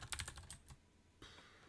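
Quick bursts of keystrokes on a computer keyboard, a cluster of close clicks, a short pause, then a few more taps, quiet and with no talking.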